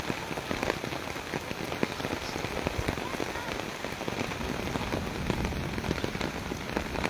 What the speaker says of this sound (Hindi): बारिश की तेज़ी आ गई है